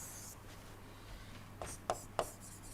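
Pen or chalk writing on a board during an engineering lecture on steam turbines, a few faint scratchy strokes with short sharper taps near the end over a quiet low hum.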